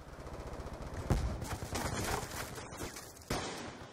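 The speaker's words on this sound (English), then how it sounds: "I hear gunfire!" Gunfire in Call of Duty Black Ops 2 online free-for-all play on the Studio map: rapid, dense automatic bursts with a few louder shots standing out, heard as continuous in-game combat.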